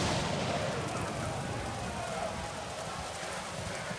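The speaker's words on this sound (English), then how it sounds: "a violent storm hit the army" A violent storm batters an army in Age of Empires IV, heard as a steady, loud roar of rain and gusting wind that fills the whole stretch without letting up.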